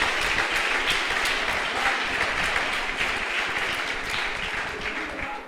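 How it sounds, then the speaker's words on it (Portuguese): Congregation applauding during a church service, sustained dense clapping that fills the room steadily for several seconds. "Você pode aplaudir o Eterno?"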